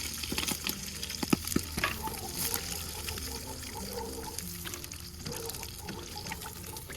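Fried chicken feet for dim sum go into a pot of water, giving a steady bubbling, hissing sizzle with scattered sharp pops and splashes at moderate volume and no talking.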